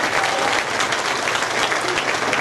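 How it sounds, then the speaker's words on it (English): Loud, dense applause from a congregation at a gospel concert in a chapel, continuous enthusiastic clapping filling the room. "One more time, let's give the Lord a hand clap."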